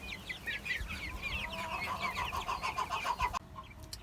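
Baby quail chicks chirp and peep together in a steady, close chorus of high calls for several seconds before cutting off abruptly.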